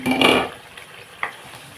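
A spoon stirs fish curry in a pan, giving a short scraping, sizzling burst up close followed by a couple of faint clinks against a soft, steady background.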